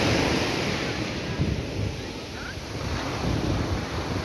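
Surf washes onto Pebbles Beach in Carlisle Bay, Barbados, a constant soft roar mixed with gusting wind buffeting the microphone.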